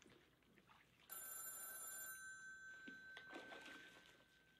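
A telephone rings in the video game Backbone: a bright, steady electronic ring that starts abruptly, holds for a couple of seconds, then sounds again briefly over quiet background ambience.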